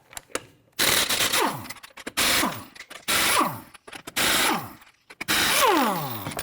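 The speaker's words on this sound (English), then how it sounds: "Using a 21mm socket, go ahead and loosen and remove your lug nuts." An impact wrench with a 21mm socket loosening lug nuts on a 2011-2015 Kia Sorento front wheel, in five loud, close bursts of rapid hammering, each one winding down with a falling whine and separated by short pauses.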